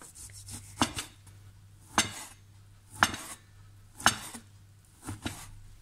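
A knife cuts through cooked pork on a board in about five separate chops, roughly one per second, close by and fairly quiet, with a low hum behind.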